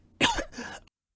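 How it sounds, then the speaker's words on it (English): A woman coughs hard in two quick, close bursts, the first harsher and the second rasping, in the stifling air of a mech cockpit in a dramatized audiobook scene, with no speech around it. "She frantically pulled off her breathing mask and coughed in the stifling air of the cockpit."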